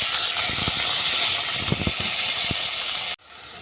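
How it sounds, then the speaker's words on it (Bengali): Naga fruit and grapes drop into hot white oil with dry red chillies and bay leaves, giving a loud, dense, steady sizzle up close that cuts off abruptly near the end. "ফোড়ন ভাজা হয়ে গেছে আমি এবার ফলগুলোকে তুলে দেব"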